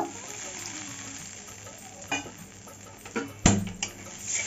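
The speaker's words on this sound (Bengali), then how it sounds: "দিয়ে এখন ভালো করে কষিয়ে নেব" Ground spices sizzle and fry in a pan for a vegetarian jackfruit curry, a steady close hiss broken by a few scraping stirs and a sharp clatter of a utensil against the pan.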